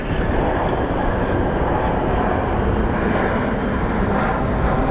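An airliner in Star Alliance livery departing Phoenix Sky Harbor International Airport, its jet engines producing a loud, steady broadband roar that holds throughout without a break.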